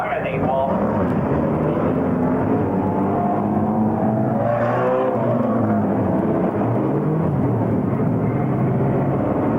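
Banger racing cars at Warton roll off for the rolling lap of a heat, a dense, steady rumble of many engines that continues throughout, with a voice talking over it.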